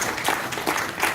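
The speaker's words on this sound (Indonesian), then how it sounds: "Berikan tepuk tangan untuk" Audience applause at a business presentation event, a dense wash of many hands clapping steadily and fairly close throughout the short stretch.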